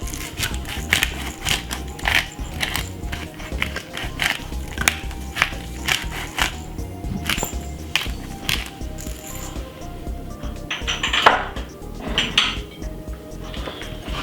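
Utensil stirring seasoned stuffed mushroom filling in a bowl, salted and peppered, with repeated close clinks and scraping against the dish, steady and fairly loud, no talking.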